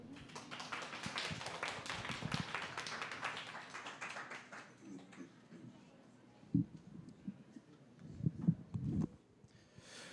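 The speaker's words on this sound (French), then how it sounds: "On applaudit s'il vous plaît Benoît Lou." An audience claps for a speaker at an evening science talk at a plant-biology research institute in a botanical garden. Dense applause fills the first few seconds, then fades to scattered taps and a few louder bumps.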